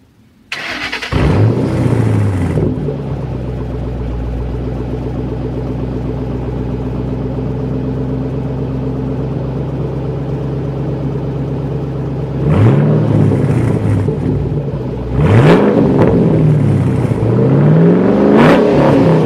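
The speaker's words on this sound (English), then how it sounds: "let's go ahead and get a nice little exhaust clip" A 2007 Ford Mustang GT V8 starts up and idles with a steady, loud exhaust rumble, then is revved twice in quick bursts near the end, each rise falling back to idle; no talking.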